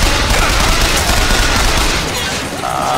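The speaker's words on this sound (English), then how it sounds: "Oh, that's a turret shooting at me over there." Dense, continuous gunfire from a turret in BioShock Infinite, a loud sustained fusillade with overlapping bursts filling the stretch, easing slightly near the end.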